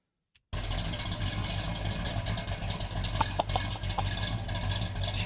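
A Dodge Dart muscle car engine idles close by with a steady, rumbling low throb, constant throughout after a brief silent start.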